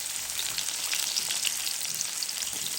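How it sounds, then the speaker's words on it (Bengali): Onion and green chili fry in hot oil for bitter gourd fry, giving a dense, even, crackling sizzle up close with no talk. "তেল করলা ভাজির জন্য। দিয়ে দিলাম পেঁয়াজ।"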